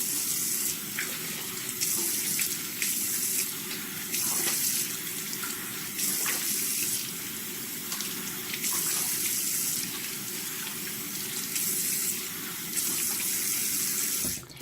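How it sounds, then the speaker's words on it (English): Tap water runs steadily from a faucet into a sink for about fifteen seconds while exfoliator is rinsed off a face, a close, continuous splashing gush with small surges as hands move through the stream. "so I'm going to wash it off"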